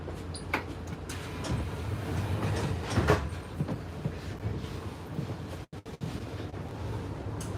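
A Swiss train runs along its rails, a steady rumbling roll with rattling clicks and wind buffeting the microphone, briefly dipping before resuming.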